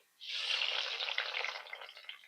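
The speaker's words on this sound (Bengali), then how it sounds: "সরষা তেলের মধ্যে পেঁয়াজ কুচি" Chopped onion dropped into hot mustard oil gives a sudden loud sizzle that holds steady as a bright crackling hiss, then slowly eases.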